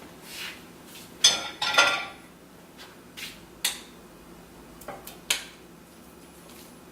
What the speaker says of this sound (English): now what we're going to do with this guy is spoon it in to our casserole dish